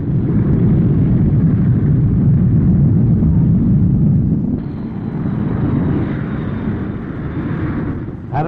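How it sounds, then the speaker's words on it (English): RAF Meteor and Vampire jet aircraft streak past at an air display, a loud sustained roar that swells and then shifts into a thinner high whine as they pass, with wind buffeting the microphone. "Meteors and Vampires streaked past."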